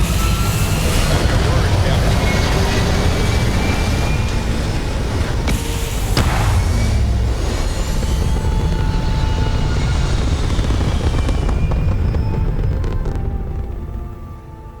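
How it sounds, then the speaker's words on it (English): A spaceship's engines in Starfield roar up as the ship lifts off, a loud, continuous broadband rumble and whine that holds steady for the full stretch before easing at the end, with a voice speaking briefly over it. "Engines ready."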